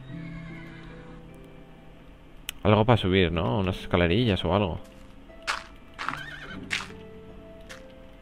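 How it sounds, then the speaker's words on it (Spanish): A horse in Minecraft gives a loud, wavering neigh lasting a couple of seconds, with faint hoof clops nearby, while someone talks before and after. "Se oye al caballo reírse."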